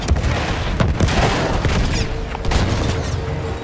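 Dense explosions and rapid gunfire pound a gun emplacement in the World War I shooter game Battlefield 1, loud booms and bursts overlapping continuously with no clear pause.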